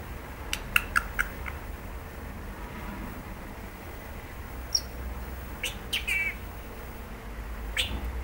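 A Senegal parrot gives a handful of short, sharp chirps and squeaks indoors. The calls are scattered across a quiet, hissy room background, with a small cluster near the start and more later.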